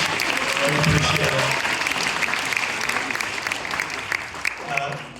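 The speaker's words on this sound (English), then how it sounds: "round of applause for our judges volunteering their time tonight" Audience applause rings out for volunteer judges at an evening startup pitch event, a steady roomful of clapping lasting throughout, loud and sustained with a slight swell near the start.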